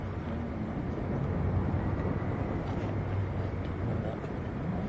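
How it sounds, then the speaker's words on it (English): An EasyJet Airbus A320 Neo at Manchester Airport, a steady low rumbling roar of jet engines, continuous and fairly loud, with no distinct onset or fade. "it is an A320 Neo this time, of EasyJet"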